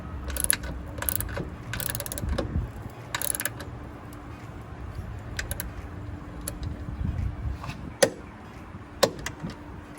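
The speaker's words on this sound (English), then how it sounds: "just get your torque wrench to your specification and go ahead and tighten that" A torque wrench tightening a bolt on a Tanabe strut bar in a 10th-generation Honda Civic: close ratcheting clicks in short bursts, then two sharper clicks near the end, over a steady background hum, with no voices.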